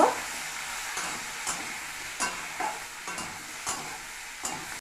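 Potatoes and ridge gourd sautéing with turmeric in an oily pan, a steady sizzle broken by regular scraping stirs about every half second to second, close and clear with no talk.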